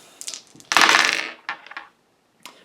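Dice rolled during a tarot-style reading: bright clattering bursts of small hard objects tumbling and rattling, one longer roll in the middle and a few shorter clicks after, close and fairly loud.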